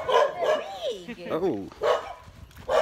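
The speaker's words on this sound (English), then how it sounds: "I don't want to get attacked by no dog." Dogs behind a gate at a market in Cambodia bark and yip in repeated loud bursts, mixed with whining, while a person talks over them nearby.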